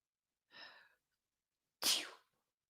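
A person gives a quick inhaled gasp, then after a pause lets out one sharp, loud sneeze up close in a quiet room, with no talking.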